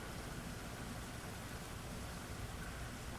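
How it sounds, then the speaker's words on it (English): Steady rain falling outdoors, a soft continuous hiss of drops with an even texture and no distinct events, faint and uninterrupted for the whole stretch, no talking. "Boy, it's raining."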